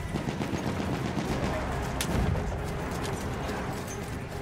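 Gunfire in the Battlefield 1 video game, with rapid shots and bursts over a dense battle din and one sharper crack near the middle.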